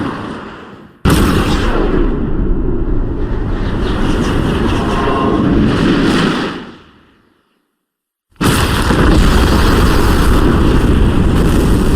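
Loud roaring rocket launcher blasts in a Resident Evil video game fill the air, a long rumbling explosion that fades to silence before another sudden heavy boom erupts.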